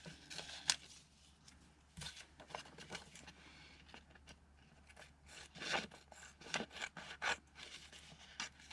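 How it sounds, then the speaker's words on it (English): Extra plastic is trimmed away from a resin flower specimen card in quiet bursts of scissor snips and crinkly rustling. The sound is faint, close and irregular. "trim off this extra plastic"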